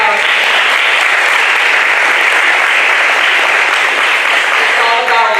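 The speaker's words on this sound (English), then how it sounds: "Can we give them another round of applause?" An audience at a school board meeting gives a steady, loud round of applause, dense uninterrupted clapping from many people lasting the whole stretch.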